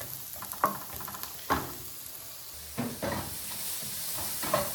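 Pizza toppings stir-frying in a pan, a steady close sizzle broken by several louder scraping stirs spaced a second or so apart.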